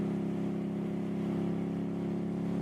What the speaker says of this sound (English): this damn exhaust is so loud